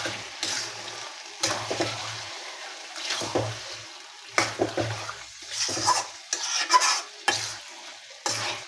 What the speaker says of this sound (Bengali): নাড়াচাড়া করে মাংসের সাথে মিশিয়ে নিচ্ছি